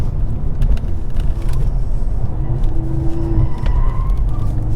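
A 2023 Mercedes-AMG C43 drives hard over a change to a less grippy pavement surface: a loud, steady engine and tire roar with a brief squeal partway through.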